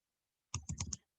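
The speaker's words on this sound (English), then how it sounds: "I'm just typing these in with you guys." A quick burst of four or five crisp keyboard clicks, close and isolated against silence.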